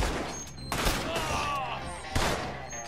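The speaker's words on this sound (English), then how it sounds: "Stop shooting me!" Gunfire in Red Dead Redemption 2 comes as a few sharp reports spaced over a couple of seconds, moderately loud against busy game background sound.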